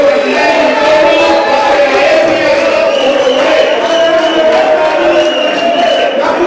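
A large rally crowd in Lubumbashi loudly cheers and applauds for Governor Jacques Kabula Wandani: a sustained, dense roar of many voices and clapping, close and constant throughout.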